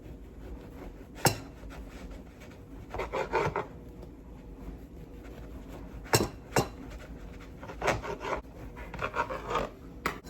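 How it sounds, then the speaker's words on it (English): Knife sawing through a loaf into thick Texas-toast-style slices, close-up and fairly quiet: short bursts of dry rasping strokes with a few sharp clicks and taps of the blade, separated by brief pauses. "I'm just gonna go ahead and cut a couple slices"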